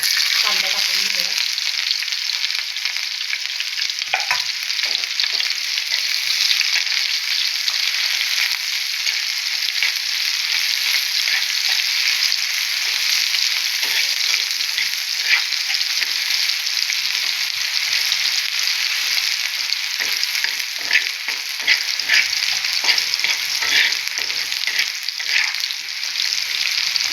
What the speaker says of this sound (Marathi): जिरे तडकल्यावर हे बघा कांदा टाकून घेऊया.